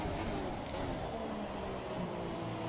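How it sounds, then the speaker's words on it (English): Racing-car engine in the F1 2017 video game under hard braking, a steady broadband roar with a mid-pitched drone running throughout, loud and continuous with no voices. "So I'm going to brake really hard."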